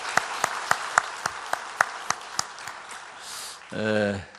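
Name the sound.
congregation applause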